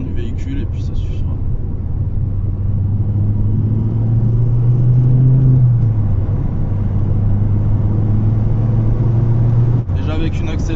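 A Ford Focus ST with a newly fitted turbo runs under light throttle, a loud, steady engine drone that rises briefly in pitch midway before settling, with a voice at the start and end.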